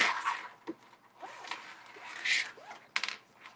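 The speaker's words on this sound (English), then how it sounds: "The whole thing unzips," A bag's zipper is drawn open in a few quick, raspy pulls, fairly quiet and close, with brief rustling between strokes.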